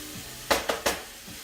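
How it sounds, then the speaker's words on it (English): Butternut squash with garlic and onions sizzles softly in a pot while a utensil stirs it, giving three quick scraping bursts against a faint background hiss. "So you're constantly just mixing it around"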